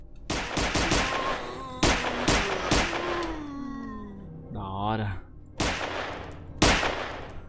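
Loud, sharp bursts of gunfire in a Resident Evil 2 first-person fan mod built on Half-Life 2, in quick clusters, with a falling electronic whine and a warbling effect between shots.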